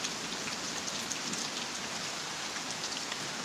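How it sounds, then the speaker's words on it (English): Steady, dense rain pours down during a severe thunderstorm in Pittsburg, Kansas, a constant even hiss with no thunder or voices standing out. "bring on the rain."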